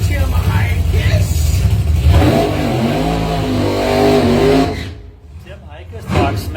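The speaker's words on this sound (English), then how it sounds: "The split window 63 Corvette 540 cubic inch blown Chevrolet from Traverse City, Michigan for Higas Performance" A blown 540 cubic inch Chevrolet engine in a 1963 split-window Corvette drag car roars loud and steady under an announcer's talk, swelling as it revs before dropping away near the end.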